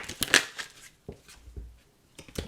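Tarot cards being shuffled by hand during a reading, with a few quick papery riffles and soft taps close by, fading to quieter handling and then a couple of brief flicks.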